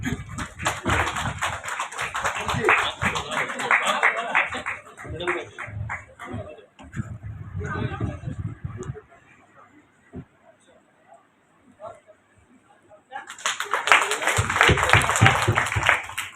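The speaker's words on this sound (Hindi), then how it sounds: "तो मैं चाहूंगी कि इनका भी तालियों से सम्मान हो।" Clapping from an audience at a university cultural programme, heard in two bursts of many hands separated by a quieter stretch with some voices and scattered sounds, the second burst loud and full.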